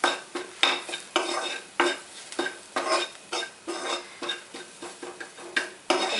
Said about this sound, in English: Again stir it well till all masala is stirred.